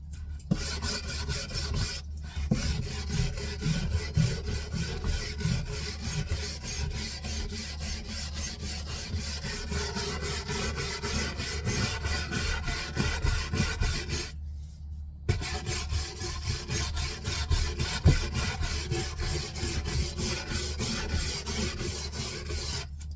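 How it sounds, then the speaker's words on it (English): A wire brush scrubs years of grime off an old GPO battery box in steady rapid rasping strokes, close and continuous for a long stretch, with two brief pauses. "that means giving it a good go with the wire brush"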